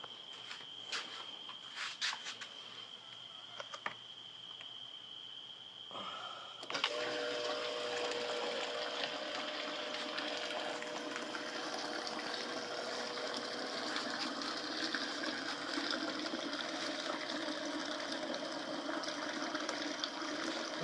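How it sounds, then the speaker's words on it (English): A homemade portable fishing livewell's aerator switches on partway through, pushing air into the water with a steady bubbling, gurgling hiss and a faint motor hum that runs continuously and fairly close for the rest of the stretch. "to help suck in air and aerate the water even more"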